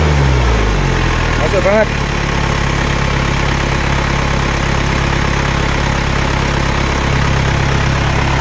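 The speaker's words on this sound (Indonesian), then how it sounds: "Ini kondisi mesinnya" A 1997 Isuzu Panther engine idles loud and close in a steady low rumble that holds throughout, with someone speaking briefly over it.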